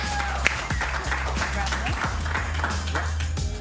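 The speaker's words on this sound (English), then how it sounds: "Give those 3 a round of applause." A small audience at a Friday night showdown event gives a modest round of clapping with scattered claps and taps, moderately near, mixed with a low hum and some voices in the room.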